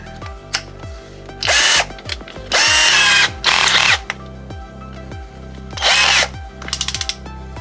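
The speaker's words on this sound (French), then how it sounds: "On va utiliser notre visseuse." A cordless drill-driver in drill mode at second speed bores a hole for threaded rod in several loud whirring bursts, separated by pauses and quick ratcheting clicks, close to the listener.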